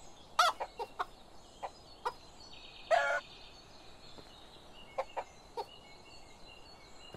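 Chickens in the medieval farming game Medieval Dynasty give a few short, scattered clucks and squawks, with one louder burst in the middle, over a quiet outdoor background.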